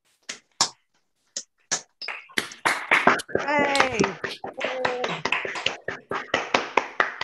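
A few scattered hand claps from a colleague at an online Master of Arts graduation ceremony, sharp and sparse, mixed with a short cheer and voices.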